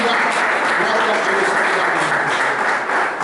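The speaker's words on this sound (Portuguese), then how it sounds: "Glorifica a Deus, aplaude o nome de Jesus." A church congregation applauds, dense sustained clapping from many hands filling the room steadily and loudly throughout, with voices mixed in beneath.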